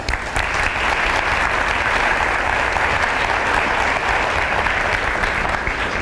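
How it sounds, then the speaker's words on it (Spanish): A large audience of young people at a speaking event applauds loudly and steadily, a thick, even wash of clapping that holds from start to finish without letting up. "Así que un fuerte aplauso para todos"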